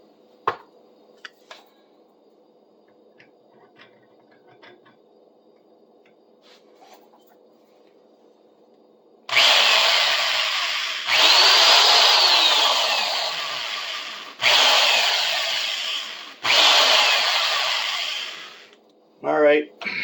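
A power drill with dull bits bites into a workpiece in three or four loud, whining bursts of a few seconds each, after quiet handling clicks at the start.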